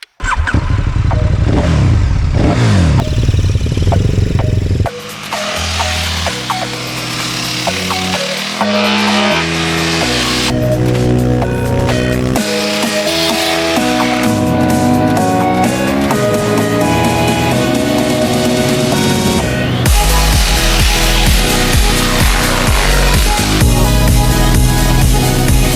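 A KTM 1290 Super Duke R motorcycle on Dunlop Qualifier Core sport tyres roars on the road, its engine revving up and down through gear changes, loud and continuous with rising and falling pitch and no talk.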